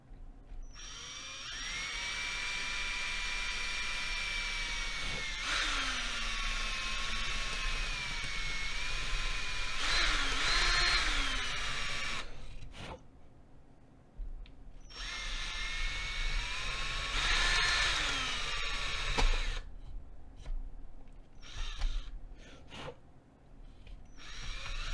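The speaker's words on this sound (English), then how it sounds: "I'm going to just use the drill" A power drill grinds and shapes a plastic NES console case in long, loud, sustained whining passes with short pauses between them, close up with no talking.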